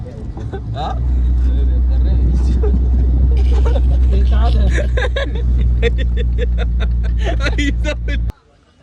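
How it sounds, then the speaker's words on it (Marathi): A car is driven out of a parking area at the Bhimashankar temple, its engine a loud, steady low rumble close by for most of the clip. People talk and murmur over it, and the engine stops sharply near the end. "इथं आपली गाडी काढतोय"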